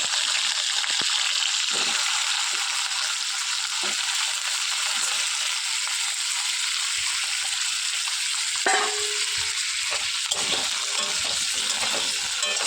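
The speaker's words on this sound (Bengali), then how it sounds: "একটু নাড়াচাড়া করতে করতে তার মধ্যে দিয়ে দেবো কেটে রাখা আলুর টুকরোগুলো" Diced potato pieces fry in hot oil with cumin tempering in a pan, a steady loud sizzle throughout, broken by occasional scraping stirs near the end.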